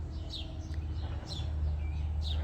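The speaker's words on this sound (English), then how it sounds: "You can hear the birds, they're wanting to come in and eat." Small birds near a patio container garden on the Texas Gulf Coast give three short, bright chirping calls, spaced about a second apart over a steady low background hum.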